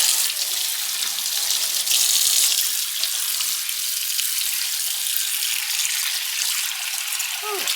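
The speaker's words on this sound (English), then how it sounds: "We'll rinse it out real good." Water from a kitchen faucet runs steadily as a skillet is rinsed in the sink, a continuous close hiss with no talk, ending with a brief clink.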